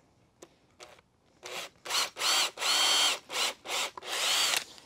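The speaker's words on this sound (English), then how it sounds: "So I'm going to do a pre-drill through here now" A power drill pre-drills a pilot hole through reclaimed wood. A couple of short taps come first, then a string of loud whirring bursts with brief pauses between them, close up with no talking.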